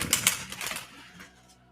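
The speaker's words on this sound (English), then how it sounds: "deck deserves a good shuffle." Tarot card deck being shuffled by hand, a few quick crisp riffling bursts near the start that thin out into softer rustles and fade.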